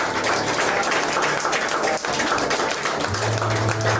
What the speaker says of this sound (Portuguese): Aleluia, aplaude o nome de Jesus.